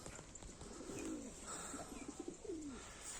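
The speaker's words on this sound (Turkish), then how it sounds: "Şu kuşlarımız teke düştü uçurduk." Pigeons coo softly in a few low, rolling calls over a steady background hiss, with faint chirps around them and no speech.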